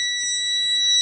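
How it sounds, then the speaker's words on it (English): A prototype trigger tape sensor alarm emits a steady, piercing electronic beep tone that holds continuously for about a second, loud and close with no talking. "You don't want the alarm on too much because it actually uses quite a fair bit of power, this prototype."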